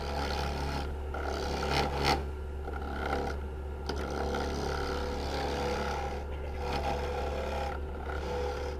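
A stubby gouge cuts into a spinning wooden bowl on a lathe, giving a steady scraping rasp over the constant motor hum, with a few sharper catches along the way.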